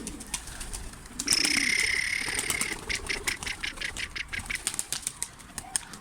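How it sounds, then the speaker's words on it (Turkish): A domestic pigeon coos softly near its mate, joined by a brief burst of wing flapping and a string of light clicking and tapping sounds close by. "Bakın eşini zaten görüyor kuş. Ötmeye başladı."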